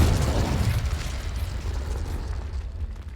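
A Confringo spell blast in Hogwarts Legacy, a loud, close, rumbling explosion that lands at once and slowly fades over a few seconds, heard alone.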